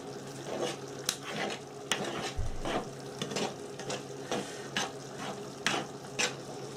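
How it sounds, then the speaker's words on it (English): Food being stirred in a cooking pan over a soft, steady sizzle, with scrapes and light clinks of a utensil against the pan at an uneven pace, close and with no talking. "We'll stir that in and see how things get going then."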